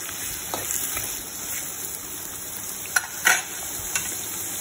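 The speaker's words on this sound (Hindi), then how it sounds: "अच्छी तरह से तेल में आलू को मिला लें।" Potatoes stirred and fried in hot oil for aloo bhujia give a steady close sizzle, broken by a few sharper scraping strokes of the spoon against the pan.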